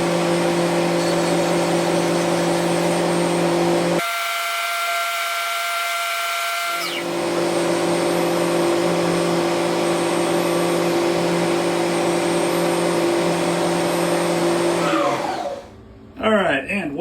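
CNC milling machine running an operation, a loud steady whine and hum with tonal pitches that shifts character partway through, then cuts off near the end.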